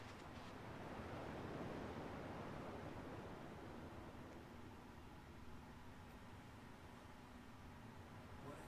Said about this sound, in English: At least the waves sound the same.